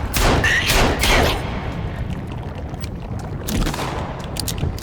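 Magnum gunfire in the video game Sons of the Forest: a few loud, close, sharp blasts cracking out in bursts over a rough, noisy background.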